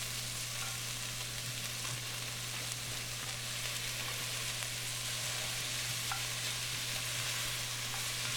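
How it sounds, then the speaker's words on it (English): Vegetables fry in olive oil in a pan, a steady close sizzle with occasional soft stirring clicks, running continuously without talk. "cook the vegetables with some more olive oil"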